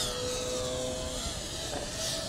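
An FPV racing drone flies on Racerstar SPROG-X 2205 brushless motors, giving a steady, high-pitched buzzing whine that shifts in pitch as the throttle changes, heard alone.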